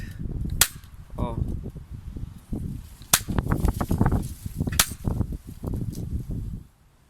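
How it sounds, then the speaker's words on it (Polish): A Parkside stapler/nailer fires with its safety lock released, giving three sharp, loud snaps spaced a few seconds apart, with someone talking between the shots. "strzela jak z procy"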